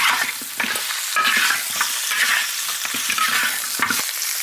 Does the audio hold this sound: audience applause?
no